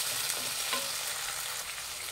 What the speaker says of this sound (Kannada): ಇದು ಅಷ್ಟೇ ಚೆನ್ನಾಗಿ ಫ್ರೈ ಆಗಬೇಕು ಟೊಮೆಟೊ.